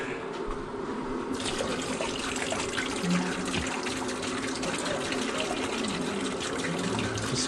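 Liquid poured steadily into a plastic beer fermenter while brewing a Coopers Draught homebrew kit, a continuous close splashing and trickling wash that runs the whole time without a break.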